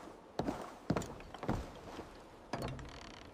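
AI-generated footstep effects from a Veo 3 video, made up of a few soft, close thuds and scuffs at uneven intervals against a quiet background.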